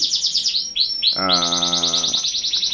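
A canary sings close by, repeating rapid high chirps and trills, broken by a rich buzzing warble in the middle, with no voices over it.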